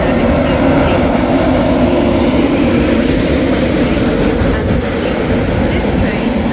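An LNER train rumbles at the platform of Doncaster station, a loud, close, steady roar of engine and wheels with faint high squeals, continuous throughout.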